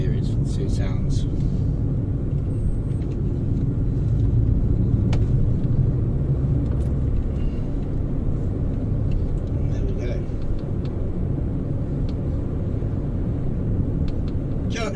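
A car drives along a road near Malaga, Spain, its steady low engine and tyre rumble continuous and fairly loud throughout, with someone talking over it the whole time.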